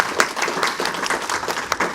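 A small group applauds after a chakra-clearing meditation session, giving a short burst of fairly close, continuous clapping.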